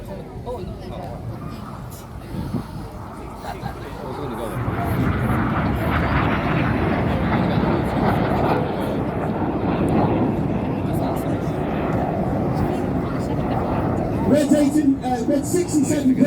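Red Arrows jets flying a display at Armed Forces Day in Ryde on the Isle of Wight, a broad jet roar swelling louder as they pass, heard under an announcer's continuous commentary.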